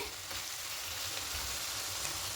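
Eggplant and betel greens fry together in a pan, making a soft, even sizzle that holds steady throughout with faint stirring underneath.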